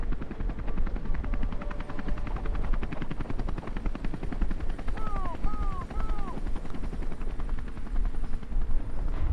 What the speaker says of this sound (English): Oh, helicopters.